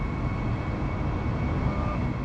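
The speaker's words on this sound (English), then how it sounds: "the plane starts to gain speed on the runway" Airliner speeding down the runway on its takeoff roll, a steady, dense engine roar with a faint whine, continuous and fairly loud with no voices.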